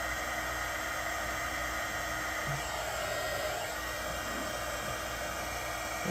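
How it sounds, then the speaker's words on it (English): Heat gun heating heat-shrink tubing on a mechanical-switch book nook build, a constant close hiss of blowing hot air with a faint high whine, steady throughout. "so you guys don't have to just listen to the heat gun"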